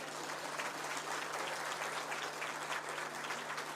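Audience applause at a climate summit in Kenya, a dense, even wash of many hands clapping at a distance, continuous and fairly faint, with a low steady hum beneath.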